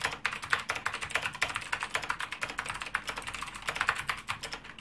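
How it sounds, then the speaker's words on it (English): Fast typing on a Tesoro Excalibur SE keyboard with light, clicky blue-style optical switches, a dense close run of crisp keystroke clicks with no pauses. "they feel a lot lighter than Cherry MX Blues, which means we get that amazing clicky sound"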